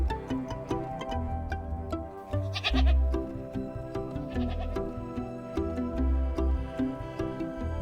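A goat bleats several times, fairly loud and close, over steady background music with a regular beat.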